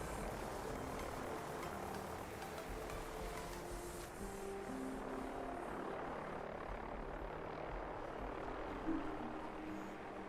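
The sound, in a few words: helicopter rotor, from a video game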